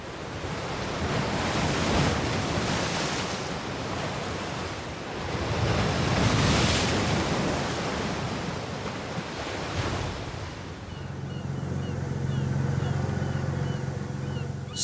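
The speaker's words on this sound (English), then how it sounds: "Here, waves rush into a natural channel and crash into the rocks." Ocean waves rush into a natural rock channel at Thunder Hole on Mount Desert Island, Maine, a loud continuous roar of surging surf with swells and crashes, joined near the end by a low steady engine-like drone.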